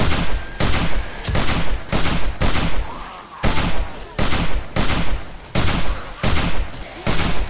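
Repeated bursts of gunfire in a zombie survival game during a bloodmoon horde, about a dozen loud sharp shots fired at an irregular pace with brief gaps, no talking.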